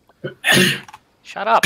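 A single sneeze bursts out loud and close, followed by a brief spoken remark.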